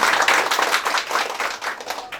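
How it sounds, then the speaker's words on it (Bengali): Sustained applause from an audience at a political memorial and prayer gathering, dense steady clapping filling the whole stretch with no speech over it. "করতালির মাধ্যমে তাকে আমরা স্বাগত জানাই"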